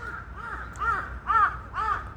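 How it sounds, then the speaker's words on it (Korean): A crow flying past caws five times in a quick rhythmic series, fairly clear and mid-distance, growing slightly louder midway. "까마귀가 지나가면서"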